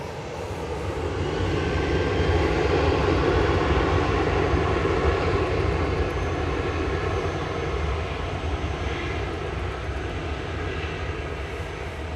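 A Jet2 airliner at Manchester Airport produces a steady, broad engine roar at moderate distance that swells slightly and holds without pause.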